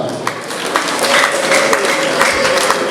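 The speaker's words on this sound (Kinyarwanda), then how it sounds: "Amashyi menshi cyane." Applause from a wedding crowd, a dense, steady patter of clapping lasting a few seconds at moderate loudness, with no clear voices over it.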